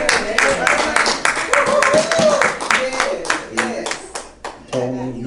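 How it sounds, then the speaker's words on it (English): A church congregation claps hands in praise during a sermon, loud distinct claps forming a rhythmic, close burst while voices call out and talk underneath, the clapping thinning near the end. "Y'all ought to give God a hand clap of praise for that."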